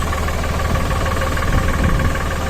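Landini tractor engine idling on a cold morning after starting, a steady diesel chug with a knocking rumble throughout, close and loud, with no talking.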